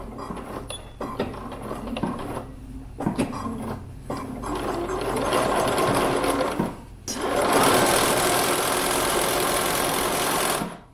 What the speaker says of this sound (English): Okay, let's sew on a pocket.